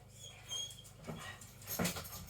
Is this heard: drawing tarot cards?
no